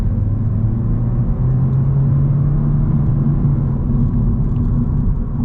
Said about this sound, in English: Let's get a little acceleration here.